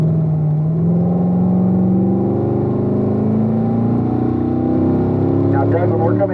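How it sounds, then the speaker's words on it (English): A car engine pulls hard in fourth gear on a race track during a driving-school session, its steady rising drone loud and continuous, with an instructor talking over it. "Glenn, let's go up at the 4th gear"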